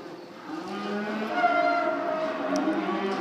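A Brangus bull lets out a long, low, drawn-out moo that swells in loudness and holds steady, heard close with no talking.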